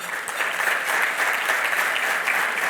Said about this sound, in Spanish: También pido un aplauso por esto